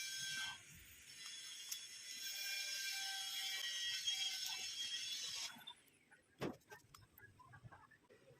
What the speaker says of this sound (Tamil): இப்போ வந்து இதில் இருக்க ஸ்க்ரூ வந்து ரிமூவ் பண்ணிவிடுங்க.